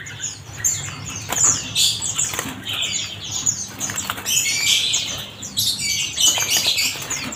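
Caged birds in a bird shop, with bursts of wing flapping and fluttering against the cages, mixed with scattered high chirps and tweets, busy and close throughout.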